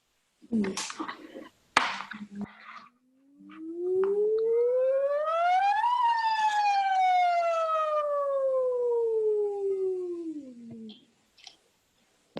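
A voice imitates a siren on a smooth rising then falling sustained tone, preceded by a few clicks and brief sounds, fairly close and clear.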